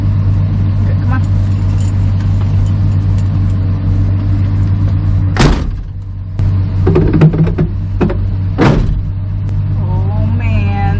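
A barn-find 1973 Dodge Dart Swinger, its engine running loud and close after sitting for 29 years, a steady low rumble with a couple of sharp surges partway through.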